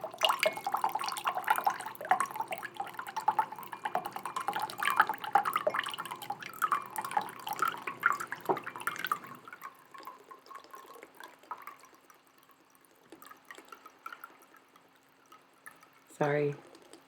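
Water from a tap pouring and splashing into a water bottle for several seconds, loud and close, then cutting off to near quiet with faint trickles and a short burst near the end; a voice talks over the filling.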